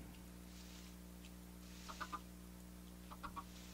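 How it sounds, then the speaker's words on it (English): Baby chickens in the Dexteram Tunnelers video game give two short bursts of soft clucking chirps over a steady electronic hum, faint and close together, with no voices. "What is it with these baby chickens?"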